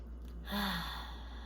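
A deep breath drawn in through the nose, a single soft airy inhale rising and fading over about a second, close and quiet with no talking.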